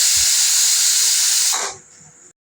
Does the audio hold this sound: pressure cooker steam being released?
yes